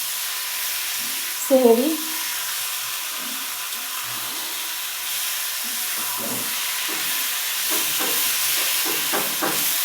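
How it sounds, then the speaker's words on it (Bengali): Red amaranth greens fry with plenty of onions in a small pot, giving a steady, soft hiss and sizzle. A short spoken word cuts in early, and faint stirring clicks come later. "আর হচ্ছে শাক ভাজি করতেছি"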